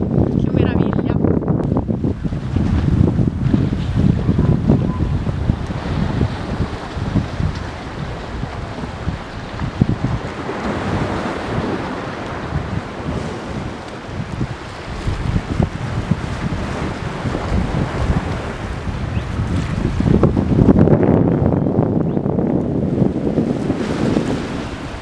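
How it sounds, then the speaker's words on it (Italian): Wind blows at the seaside harbour of Civitavecchia, buffeting the microphone in loud, rough gusts while a voice talks underneath throughout. "spero riuscite a sentirmi perché c'è un po' di vento"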